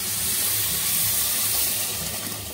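Water poured into a pot of khichuri, where the rice, lentils and spices have just been sautéed and are sticking to the bottom, giving a steady, close, continuous gushing that fades slightly at the end.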